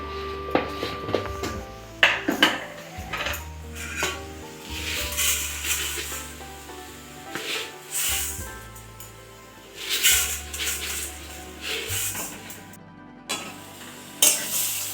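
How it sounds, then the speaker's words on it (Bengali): Sugar and date palm jaggery melt in a pan over coconut while a spoon stirs and scrapes, giving irregular close scraping and soft sizzling with occasional knocks against the pan, no talking. "এবার এইভাবে আমি নাড়িয়ে টাড়িয়ে দেবো। নাড়াতে নাড়াতে গুড়টা গলে যাবে।"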